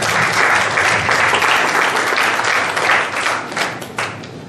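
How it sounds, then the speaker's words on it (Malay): An audience at an Islamic dakwah program in Malaysia breaks into loud, sustained applause, dense clapping that gradually thins toward the end. "Berikan tepukan gemuruh kepada mereka."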